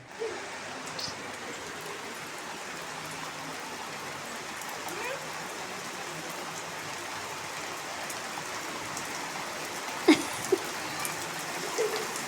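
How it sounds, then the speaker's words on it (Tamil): Heavy rain pours steadily outdoors, a dense continuous hiss of drops on surfaces with a few nearer patters and knocks late on, while sun-dried vathal is being made. "நல்லா சூப்பராக மழை பெய்யுது"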